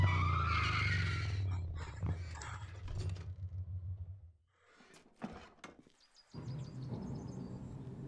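A bike skidding in the video game Transistor makes a loud, rough screeching slide for several seconds, then a near-silent gap, followed by scattered clatter and a renewed rumbling roll.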